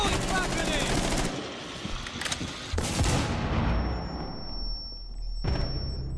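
A flash grenade goes off during a Rainbow Six Siege match, a loud burst of sharp blasts and crackling gunfire-like noise, followed by a steady high ringing tone that lingers for several seconds, with no talk over it.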